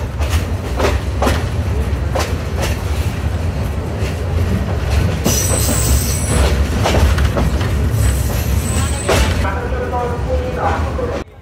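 Egarosindur Provati Express (737 Up, Dhaka to Kishoregonj) pulling out of Dhaka Airport railway station with a steady loud rumble of rolling wheels, clicking rail joints and brief high whistle and squeal tones, with a voice talking over it.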